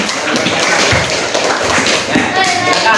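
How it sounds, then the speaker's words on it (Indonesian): Classroom of schoolchildren clapping hands together, a dense, steady patter of many small claps close by, with voices murmuring underneath throughout. "Tepuk tangan semuanya ya."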